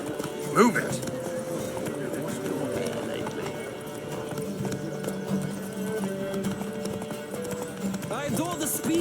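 Horses gallop in a race in The Witcher 3, with steady rapid hoofbeats and occasional whinnies under ongoing talk and game ambience.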